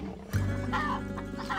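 Chickens cluck in the Predator Simulator game, a short burst of fowl clucking and squawking against a steady background hum, fairly close and loud.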